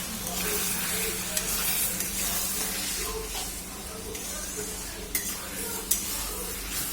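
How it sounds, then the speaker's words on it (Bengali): Mutton curry sizzles and spits in oil in a pan as it is stirred steadily, with a few sharp scrapes and clinks of the spoon against the pan. "এবার আমি একটু ভালো করে নাড়িয়ে নেব।"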